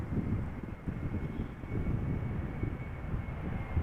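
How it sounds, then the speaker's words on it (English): A Vueling Airbus A321 airliner landing at Amsterdam Schiphol in crosswind gives a steady, fairly distant engine roar, with gusting wind buffeting the microphone. "A321 from Vueling, arriving from Barcelona,"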